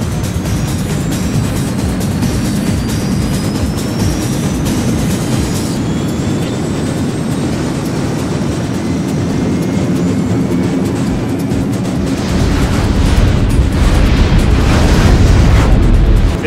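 Predator Mark IV hybrid planetary assault vehicle launching in the PlayStation 1 game StarFighter 3000: a loud, steady roaring thrust with rising whines that swells heavier and brighter near the end, no voices.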